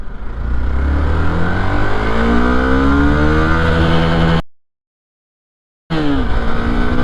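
A 2023 Hero Xpulse 200 4V Pro Rally Edition motorcycle accelerates hard in first gear, its loud engine note rising steadily in pitch, briefly cut off, then resuming at high revs.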